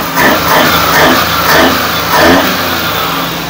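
A Multicab minivan engine revs repeatedly in several rising bursts, loud and close, with a steady idle between the revs.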